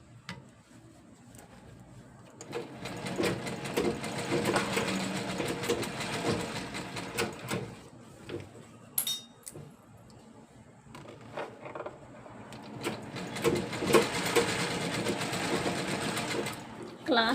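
A sewing machine stitches piping in close, rapid whirring runs with a pause in the middle and a second long run, while a person talks at times.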